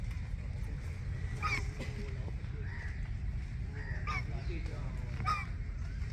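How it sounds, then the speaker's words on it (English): Several waterfowl calls, honking quacks spaced irregularly over a steady low outdoor rumble, with faint voices in the background. "And of course the ducks."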